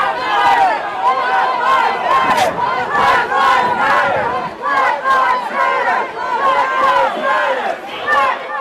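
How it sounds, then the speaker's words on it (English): A restless protest crowd at a Nashville rally gathers in front of the Central Police Precinct, shouting and chanting in loud rhythmic waves of many voices close by. "you can see the crowd has stopped and they're getting very restless right now"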